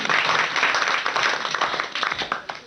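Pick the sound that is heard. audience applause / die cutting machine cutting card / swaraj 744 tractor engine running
audience applause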